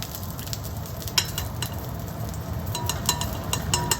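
Tofu frying in hot oil gives a steady, soft crackling sizzle, with a few sharper pops and faint metal clicks of tongs.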